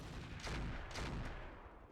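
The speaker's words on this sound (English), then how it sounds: "they got me with a little bit of fire from machine guns. Lots of missile hits." Machine gun fire and missile hits in a video game: a dense, muffled roar with several heavy booming bursts in quick succession, loud and close, with no talk.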